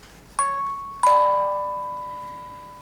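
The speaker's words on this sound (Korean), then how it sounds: "종소리 오랜만에 들으시죠?" A bell chimes twice, each strike ringing out with a clear, sustained tone that slowly decays, the second strike louder and lingering to the end, with no talk over it.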